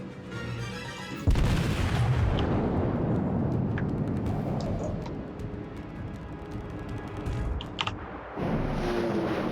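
Main battery guns of a warship in World of Warships fire a heavy booming volley that rolls into a long rumbling decay, followed later by a second sharper report.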